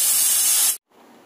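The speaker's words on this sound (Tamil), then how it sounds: "இப்போ சாதம் விசில் வந்துருச்சு" A pressure cooker cooking rice lets off a loud, steady hissing whistle of steam that cuts off abruptly, leaving a quieter hiss afterward.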